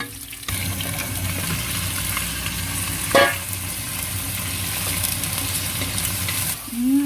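Garlic and onion sautéing in a pan until lightly browned, a continuous close sizzle with one brief clatter near the middle and a faint tonal sound at the end.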